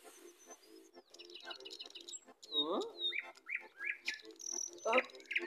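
Cartoon birds chirping and tweeting in quick bright bursts around a character's head, a busy cluster of whistled calls with some voice-like sounds mixed in.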